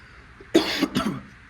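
Two quick, harsh coughs from one person, close and fairly loud, in an otherwise quiet room.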